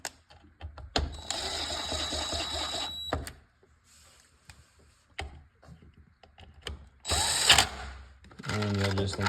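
A power drill or driver spins screws into a control board plate on a Minn Kota Ultrex trolling motor, whirring in a few short bursts of a second or two each, with pauses and handling noises between them.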